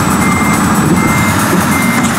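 A truck's reversing alarm beeps loudly and steadily in Euro Truck Simulator 2, a sustained electronic tone over the low hum of the engine as the truck backs up.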